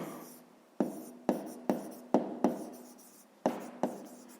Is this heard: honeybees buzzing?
no